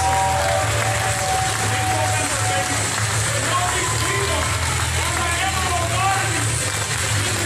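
Standing crowd at a vintage wrestling anniversary show applauding: a broad, steady wash of clapping and crowd noise fills the arena, with an announcer's voice faintly audible over it.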